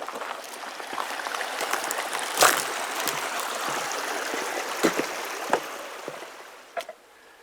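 Creek water flowing beneath a small trail bridge on a forest loop, partly frozen, giving a steady soft burble with a few brief splashes and knocks, no talking over it.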